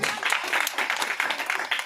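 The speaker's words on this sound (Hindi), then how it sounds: "ताली जोर से होनी चाहिए।" A seated audience breaks into dense, continuous applause, loud and full throughout the short burst, with many hands clapping together in rolling waves.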